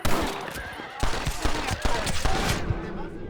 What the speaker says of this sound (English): Who the hell's shooting at me now?